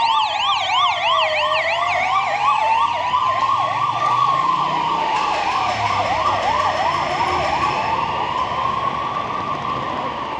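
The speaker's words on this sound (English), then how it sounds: "You won't be in a city if you didn't hear police sirens and fire engines and everything." Emergency vehicle sirens fill a Barcelona street, with several loud wailing and yelping tones overlapping and sweeping up and down continuously over distant traffic rumble, with no voices.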